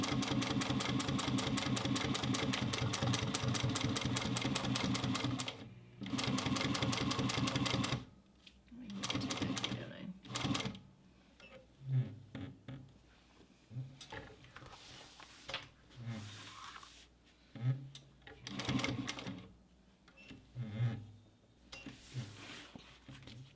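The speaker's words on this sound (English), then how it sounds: "now we're just going to sew along that rectangle, sewing that pocket facing in place." Sewing machine stitching a pocket facing in place on a bag, starting with a long fast continuous run, then short stop-start bursts of stitching with pauses between.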